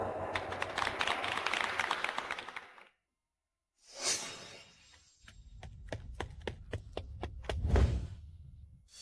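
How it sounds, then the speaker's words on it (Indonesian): Applause from a wedding audience welcoming the bride onto the stage: a dense burst of clapping for about three seconds, then a sudden cut to silence, followed by whooshes and sharp knocking hits. "mari kita berikan tepuk tangan yang meriah untuk menyambut Chu Qingsue naik ke atas panggung"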